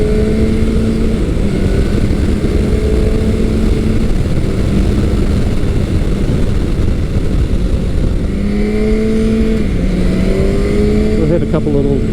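A naked motorcycle with a stock exhaust is ridden along, its engine note droning steadily, with pitch rising and falling through gear changes, under heavy wind rush and a speaking rider.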